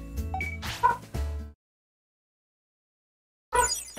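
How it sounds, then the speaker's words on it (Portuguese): Dog barking in Digimon World: Next Order, a few sharp yips and barks in quick bursts, loud and close, then a gap of silence before another bark. "E o cachorro não para de latir."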